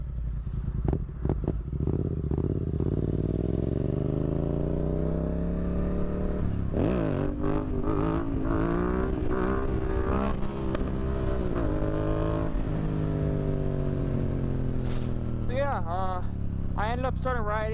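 A 2016 Yamaha FZ07 (MT-07) motorcycle rides along with its engine rumbling and revving up and down through gear changes, close and steady beneath someone talking over it.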